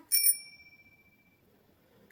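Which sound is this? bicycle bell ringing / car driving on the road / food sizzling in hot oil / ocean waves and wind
bicycle bell ringing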